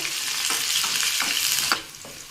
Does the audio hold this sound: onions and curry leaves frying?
yes